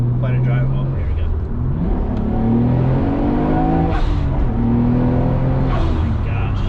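HKS 2.8L stroker engine in a Nissan Skyline GT-R R33 V-spec accelerating through the gears, loud rising revs with shifts heard from inside the car, with people talking over it.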